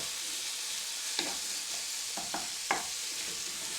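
A savoury cake mixture cooking in a pan, steady soft sizzling with a few brief scraping stirs of a utensil, faint and with no voices.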